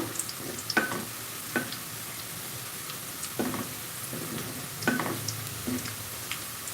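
Onions fry in a pan for pulao, a steady soft sizzle with occasional spoon stirs and light scrapes at irregular intervals, close and moderate in level, no voices.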